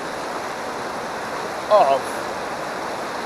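The waterfall at Bog River Falls, seen from beside a stone bridge: a steady, even roar of rushing water that fills the whole stretch, broken only by a brief spoken word partway through.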